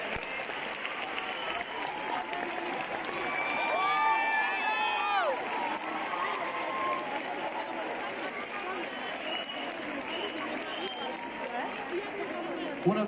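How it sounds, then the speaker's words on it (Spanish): A concert audience breaks into loud, sustained applause and cheering in a large hall, filling the space continuously with crowd noise while a presenter speaks over it. "Por favor, un fuerte aplauso para Esteban García, uno de los productores."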